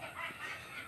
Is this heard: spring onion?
no